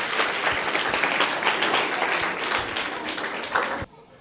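Audience applause at a school quiz competition after a student's correct answer, a continuous wash of clapping that cuts off sharply just before the end, with a voice briefly heard over it.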